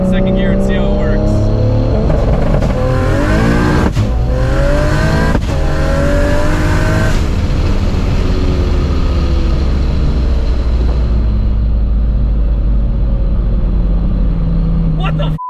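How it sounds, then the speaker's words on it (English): A Ford GT350 with a swapped-in Barra engine, tuned past 1000 wheel horsepower, revving hard with anti-lag in second gear, a loud close roar rising and falling in pitch, with a voice talking over it. "Anti-lag in second gear and see how it works."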